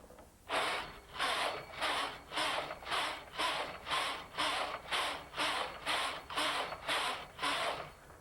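A Brother KH-930 knitting machine carriage swept back and forth across the bed, a steady series of about thirteen rasping, clattering passes roughly every half second, close and even, with no talk.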